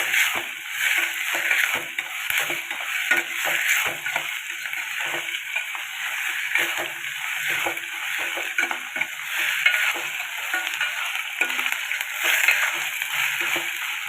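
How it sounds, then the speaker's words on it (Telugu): Onions fry in a pan for a pumpkin pulusu, a steady crackling sizzle throughout with frequent scraping stirs and light clinks of utensils. "ఈ ఉల్లిపాయలు వేగిపోవాలండి"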